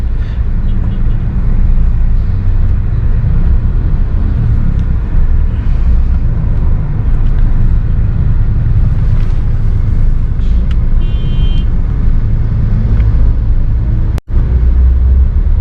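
Steady road traffic with many trucks and trailers rumbles past a moving car, a low continuous engine and tyre drone with wind noise running throughout, broken once by a brief sharp click near the end.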